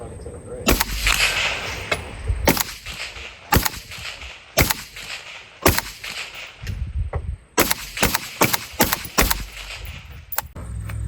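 Suppressed rifle shots from an 18-inch barrel fitted with a Sierra 5 suppressor and flash hider end cap, about ten sharp, loud reports in irregular succession outdoors, with some talk and movement between shots.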